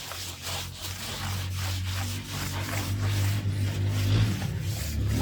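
A brush scrubbing a blanket in soapy foam during hand washing makes a steady, continuous rasping rub with faint rhythmic strokes, close by, alongside a low steady hum.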